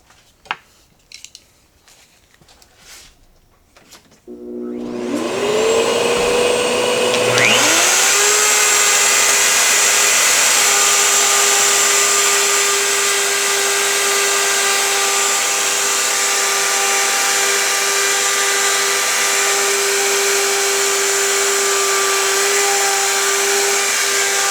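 A wood router spins up with a rising whine after a few light clicks and handling sounds, then holds a loud, steady high-pitched scream while plunge-cutting a 10 mm mortise in wood on a PantoRoute jig.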